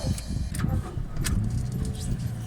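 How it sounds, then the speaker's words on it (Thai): A stalled car is restarted: sharp key and ignition clicks sound a few times, then a low, quiet engine rumble settles in beneath them. "เฮ้ยเฮ้ยรถดับไปแล้ว สตาร์ทใหม่นะ"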